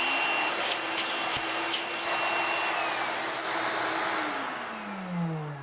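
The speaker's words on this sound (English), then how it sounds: "power mode, which starts the vacuum 2 seconds after powering on your tool" A shop vacuum runs at a loud, steady roar after being switched on by a Lunyee automatic vacuum switch, with a power tool's whine layered over it and short clicks early on.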